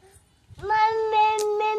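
A voice imitates a cat, giving a drawn-out, close-up meow that wavers in pitch.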